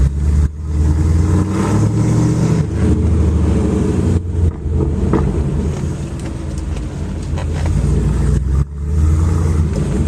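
A Mercedes car with an aftermarket exhaust revs from outside, a loud steady low engine drone with rises and dips over about ten seconds, wind noise also present.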